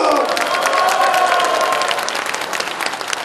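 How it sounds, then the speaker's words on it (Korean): A crowd at a Korean party leadership candidates' joint speech rally in Jeonbuk breaks into loud, dense applause with some cheering, sustained and gradually tapering off toward the end. "동의하시면 힘차게 박수 쳐주십시오"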